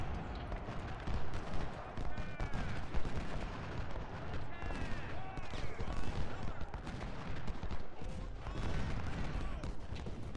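Musket volleys crackle continuously in the Civil War strategy game Ultimate General: Civil War during the Battle of Chickamauga, with dense overlapping shots and booms under a voice.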